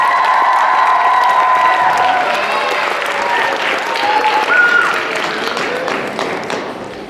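A middle school crowd applauds and cheers loudly for a baseball coach at a Twins Caravan visit, with steady clapping and high children's shouts and whoops that fade slowly near the end.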